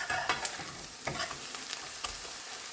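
Salt being stirred into onions frying in a pan for a monkfish curry: a steady sizzle with scraping spoon strokes against the pan, close and continuous, with no talking.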